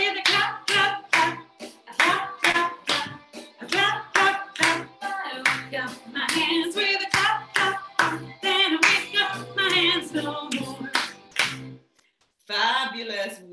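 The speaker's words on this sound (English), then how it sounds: "I wake up my hands with a clap, clap, clap." Children sing an action song and clap their hands in a steady rhythmic pattern. Loud, close claps punctuate the singing voices, with a short pause near the end.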